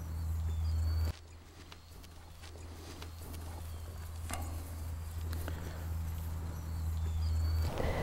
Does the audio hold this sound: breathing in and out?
no